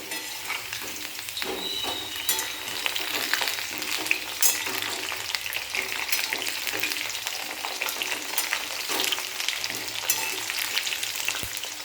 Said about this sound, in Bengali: এরকম লাল লাল করে আলুগুলোকে ভাজতে হবে